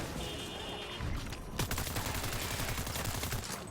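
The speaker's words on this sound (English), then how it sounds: "I was just shooting the car that I got out of, and it went poof and disappeared." A burst of rapid gunfire aimed at a car in the Cyberpunk 2077 video game: quiet game ambience for about a second and a half, then a loud, close, sustained string of shots that runs to the end without pause.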